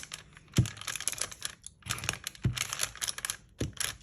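A paper lunch bag crinkles and rustles close up while it is pressed and glued into a folder. Bursts of dry crackling come in rough waves, with a few soft thumps between them.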